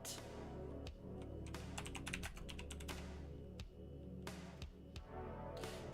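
Rapid keystrokes clatter on a computer keyboard during a live hacking session, steady and close with quick bursts and brief pauses, no voice over them.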